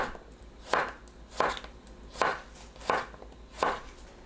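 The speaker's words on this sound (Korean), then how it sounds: "길게 반 가르고 어슷 썰어줍니다." A knife slices a halved, partly peeled cucumber on the diagonal against a cutting board, five crisp, evenly spaced chops heard close up and alone.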